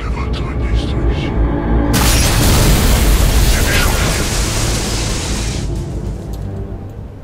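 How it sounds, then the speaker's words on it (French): Explosion in the Mass Effect video game: a massive roaring blast that erupts abruptly and holds loud, crackling and rumbling for several seconds before fading back into the low ambient drone. "Petit décalage entre le son de l'explosion et l'explosion en elle-même"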